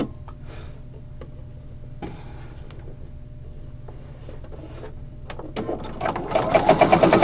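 Sewing machine stitching a back tack on a fabric pencil case, a quiet steady whir that builds into a loud rapid run of needle strokes near the end.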